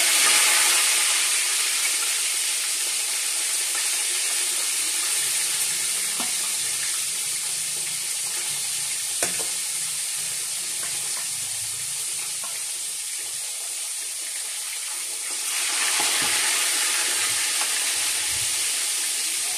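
Tilapia frying in oil in a pan, a continuous loud bright sizzle with small crackles that swells near the end, no talking.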